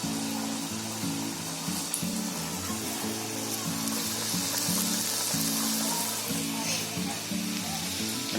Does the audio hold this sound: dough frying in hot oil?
yes